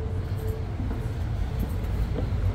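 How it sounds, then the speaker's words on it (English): Exo bi-level commuter train rail wagon on a late-night run out of Lucien-L'Allier station, heard as a steady low rumble and rolling drone with faint rattles, continuous and close throughout. "And of course, this is a bi-level train."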